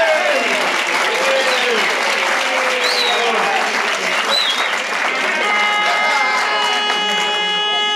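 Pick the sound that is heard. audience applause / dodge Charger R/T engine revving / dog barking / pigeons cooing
audience applause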